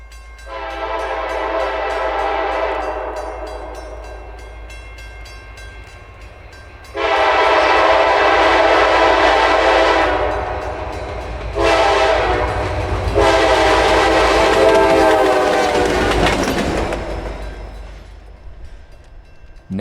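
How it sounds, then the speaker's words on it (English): Norfolk & Western 611, a steam locomotive, pulls out of the Goshen yard with several long, loud whistle blasts separated by gaps, its rumble and exhaust running underneath. "611 has the right-of-way and starts her trek towards Staunton, and rounds the bend out of the Goshen yard"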